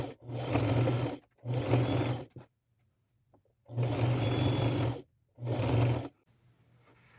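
Sewing machine stitching flounce ruffles onto an old shirt with pink thread, running in four loud close bursts of steady whirring motor with short quiet pauses between them.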